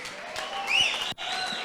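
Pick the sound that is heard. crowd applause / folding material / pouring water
crowd applause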